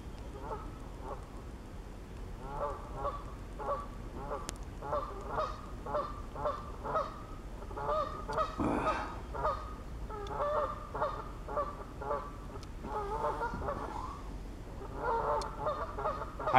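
Geese honk over and over in a lively, overlapping chorus outdoors, the calls coming in quick bursts at a moderate distance for the whole stretch.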